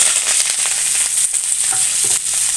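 Fennel seeds, sliced onion and green chillies fry in hot oil in a pan as the base for a stingray fish curry, giving a loud, steady crackling sizzle throughout with faint stirring.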